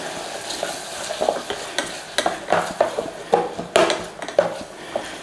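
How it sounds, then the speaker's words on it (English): Onions sweating with a pinch of thyme in a pan give a steady soft sizzle, broken by repeated scraping and stirring strokes of a utensil against the pan in an uneven rhythm, close up with no talk. "start to sweat down those onions in there"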